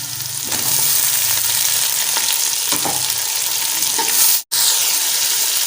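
Chopped tomatoes fry for a vegetable biryani, a loud close steady sizzle with stirring scrapes in the pan, briefly cut off near the end before resuming.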